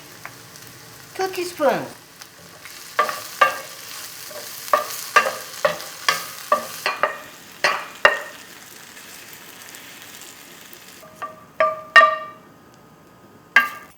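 Green chili peppers and onions stir-fried with sesame oil in a pan, heard as a series of distinct scraping stirs and clatters in an irregular rhythm over a faint sizzle, with a short spoken remark.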